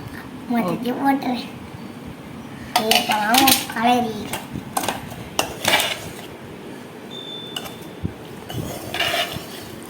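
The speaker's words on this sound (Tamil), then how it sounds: "டிஃபன் பாக்ஸில் பேக் பண்ணு" Spoon and metal tiffin lunch box clinking and scraping as ladyfinger rice is packed for school, close and clattery, with people talking over much of it.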